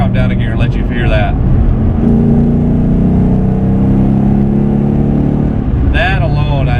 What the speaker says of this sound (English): Let me drop down a gear and let you hear that.